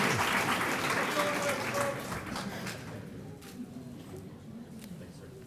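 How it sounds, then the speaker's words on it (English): Family members at a military graduation ceremony give scattered applause and cheers that start loud and taper off over a few seconds, with a distant voice reading names. "It's okay to clap and cheer if you got some loved ones up here."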